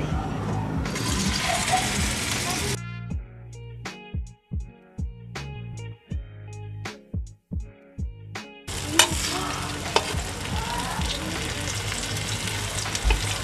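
Cassava ube balls fry in a pan with a loud, hissing sizzle, broken midway by a run of sharp, rhythmic knocks and clatters before the bubbling sizzle returns.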